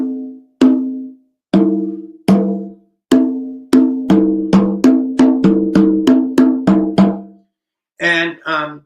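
Conga drum, also called tumbadora, struck hand by hand with a warm, thick-headed tone: a dozen or so resonant hits in an uneven rhythm, close and loud, with a brief differently pitched tone at the end.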